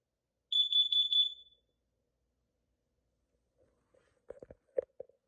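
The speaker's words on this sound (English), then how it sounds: "Warning, carbon monoxide." A KN-COPE-IC carbon monoxide alarm sounds a rapid burst of piercing high beeps lasting about a second, followed by silence and then a few faint, muffled knocks and rustles.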